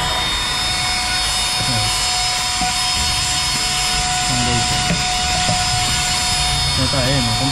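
Portable mini vacuum cleaner runs with a steady high whine and constant motor drone, close and loud, while a person talks over it with varying pitch throughout.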